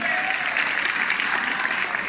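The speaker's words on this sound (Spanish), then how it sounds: "por favor, fuerte el aplauso" A conference audience applauds guests from Yate Corp, dense, even clapping from a crowd at close range throughout.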